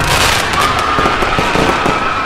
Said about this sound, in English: all the fireworks stationed in the park started going off randomly in all directions